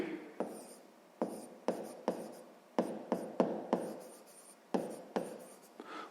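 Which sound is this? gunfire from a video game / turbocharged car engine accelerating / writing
writing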